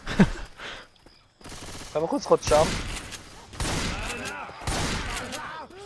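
Bursts of rapid gunfire in Left 4 Dead 2 crackle in the background while players talk and call out excitedly in German over them.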